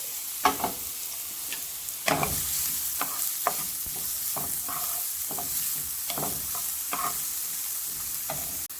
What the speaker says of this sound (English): I have my pan that's been heating, some olive oil, and then my onion and garlic